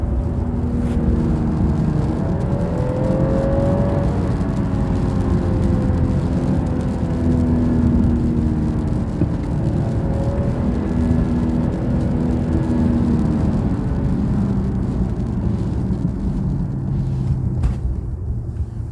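A 2022 BMW 7 Series drives along with a steady engine hum and a rising, falling tone as it accelerates, wrapped in continuous road and cabin noise from inside the car.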